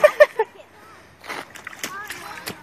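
A child splashes through a big puddle with a few sharp wet slaps up close, followed by lighter sloshing as voices chatter nearby.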